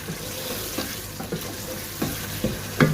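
Green chillies and ginger are stirred into a sizzling charsi karahi: a steady frying hiss runs throughout, with scraping stir strokes, the loudest near the end.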